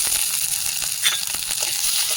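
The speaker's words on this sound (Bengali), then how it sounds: "এখন আমি শুটকিটি দিয়ে দিচ্ছি।" Dried fish (shutki) frying in hot oil with onions in a home kitchen, giving a steady close hiss of sizzling with a few brief crackles and stirring scrapes, no voices.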